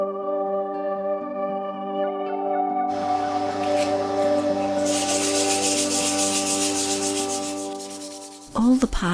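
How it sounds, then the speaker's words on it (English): Parts of a wooden paintbrush holder being sanded by hand with 400 grit sandpaper, a steady, close rubbing and scraping that runs almost unbroken, growing busier partway through, with a few clunks at the end. "All the parts were sanded with a 400 grit sandpaper."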